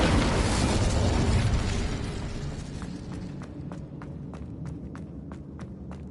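The Incendio fire spell in Hogwarts Legacy lets out a loud, dense roar of flame that fades. A run of sharp, regularly spaced clicks or steps follows, like footfalls.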